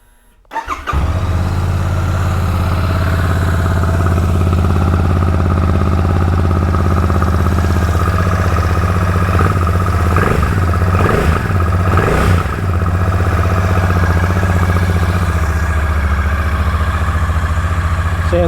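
A Royal Enfield Shotgun 650 parallel-twin motorcycle with a 270-degree crank starts and settles into a steady, loud, close idle with a brief throttle blip in the middle.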